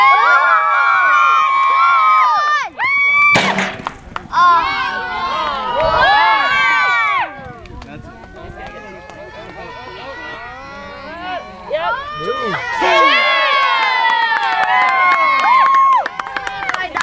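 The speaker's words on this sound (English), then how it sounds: "Cheer on, Colin!" Crowd at a jousting tournament cheering and shouting loudly in long sustained bursts, with an announcer's voice cutting in between and a sharp hit partway through.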